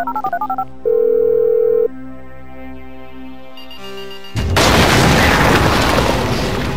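In the video game GTA V, rapid beeping tones of a phone keypad are dialed, then a long tone and a ringing sound, followed by a sudden loud roaring blast of noise.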